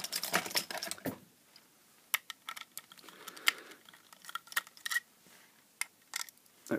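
A small screw is backed out of an XH-W3001 thermostat module's plastic case, with faint, quiet clicks and ticks that come in scattered bursts.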